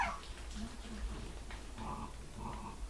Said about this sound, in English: Puppies being puppies.